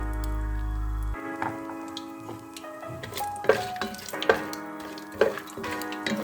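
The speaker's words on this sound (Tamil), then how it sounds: "நெய் சூடாகிடுச்சு. 2 துண்டு பட்டை போடுறேன்." Whole spices, cinnamon pieces among them, hit hot ghee for mutton biryani and fry with a soft crackling sizzle, punctuated by sharper pops and stirring clinks after a steady hum at the start.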